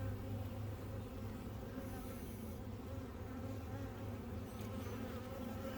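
Honey bees buzz steadily around hives in an outdoor bee yard, a dense, continuous drone that holds at an even, moderate level throughout with no talking.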